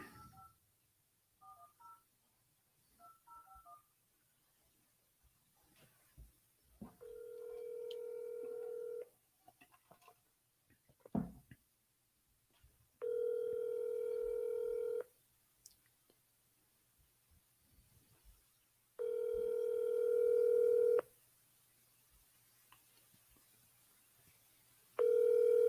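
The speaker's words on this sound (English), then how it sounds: "I'll wait for someone to answer their dang phone right now" During a cold call, soft dialing clicks come first, then a phone ringback tone repeats four times as steady two-second tones separated by quiet gaps, with faint clicks between them.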